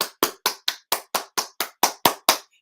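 Hands clap in a steady rhythm, about eleven sharp, evenly spaced claps, close and crisp with nothing else around them.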